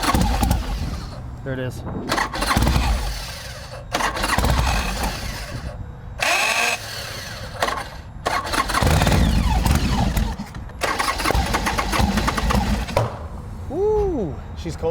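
A problem motorcycle with a suspected jack shaft and clutch fault cranks in repeated loud bursts, then catches and runs, with people talking and calling out between attempts.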